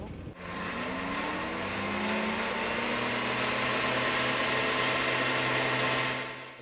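Scooter engine revving on a roller speed test bench during a roadside police check, a sustained droning whine with rising pitch sweeps near the start, then holding steady and fairly loud until cutting off.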